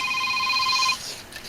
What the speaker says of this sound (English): And of course my phone is ringing.